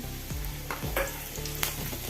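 Chopped ginger and garlic sizzle steadily in hot oil in a pan while being stirred, with a few soft scraping knocks against the pan.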